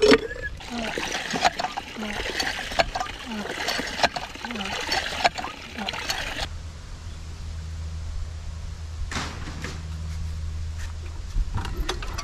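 Water splashes and trickles for several seconds, then gives way to a softer steady rush with faint low rumble, a few brief clatters and no talking.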